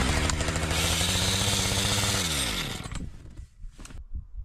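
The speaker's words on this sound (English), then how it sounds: "go back to trying to cut these freaking trees out of the way" A chainsaw cutting through trees in winter runs loud and close with a buzzing, high-revving drone, then its engine bogs and winds down, leaving sputtering idle and clanks.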